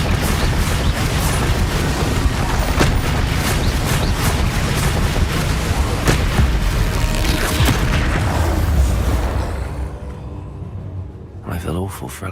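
A Confringo fire spell explodes in a wizarding video game, a loud, dense roaring blast with a rumbling low end that holds for several seconds, then fades away, leaving a few faint tonal effects.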